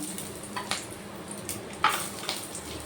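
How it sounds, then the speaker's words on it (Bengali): Peanuts and curry leaves fry in hot oil in a wok, giving a steady, soft sizzle with light stirring scrapes and a few sharper clicks near the pan. "এবার এগুলো একটু ভেজে নেব"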